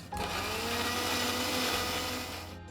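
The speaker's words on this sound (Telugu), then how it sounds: "కొద్దిగా నలిగిన తర్వాత కొన్ని నీళ్ళు పోసి మెత్తగా గ్రైండ్ చేసుకుందాం" Close, steady whir of a mixer grinder blending a wet paste of tomato, chilli, mango and ginger with added water; the motor drone holds even and unbroken before cutting off at the end.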